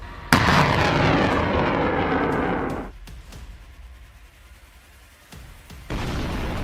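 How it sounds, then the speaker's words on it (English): HIMARS rocket artillery opening fire at a Russian convoy: a sudden loud blast followed by a long roaring rocket whoosh that fades, then further booms and a renewed rumble, with no talking. "HIMARS reacts quickly and opens fire."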